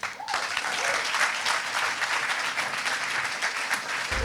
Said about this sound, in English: give a big round of applause to DNA